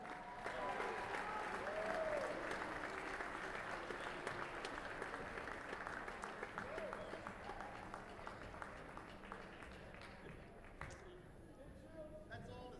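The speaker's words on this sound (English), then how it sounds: "How about a nice round of applause for Steve Hill?" A crowd at a high school boys' basketball game, Southwest Christian at Jefferson, applauds in the gym for an honoree. The clapping is dense and sustained, a distant roomy patter with voices underneath, and it slowly thins toward the end.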